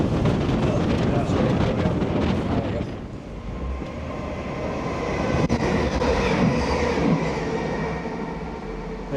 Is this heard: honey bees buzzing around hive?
no